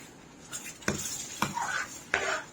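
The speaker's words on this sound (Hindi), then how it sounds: "1 टेबलस्पून कश्मीरी मिर्च डाल देंगे। इसको भी हम मसाले में मिक्स करेंगे।" A spoon stirs Kashmiri chili powder into a masala in a metal pan, producing several clinking scrapes and knocks against the pan, moderately close and fairly quiet.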